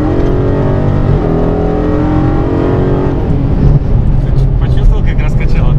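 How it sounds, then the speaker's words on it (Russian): Dodge Challenger Hellcat with 700+ hp accelerating at full throttle on an airfield, a loud, steady engine roar with rising harmonics that swells and roughens near the end, close and continuous, with speech likely mixed in. "ты нажимаешь газ в пол, машина ускоряется"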